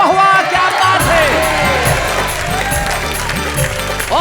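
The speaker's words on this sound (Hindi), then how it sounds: "तो आइए हम उस कार्यक्रम में बजाते हैं तालियां" Studio audience at the Indian comedy stage show Wah Wah Kya Baat Hai bursts into loud applause and cheering, a dense crowd roar with shouts and whoops over a steady music bed throughout.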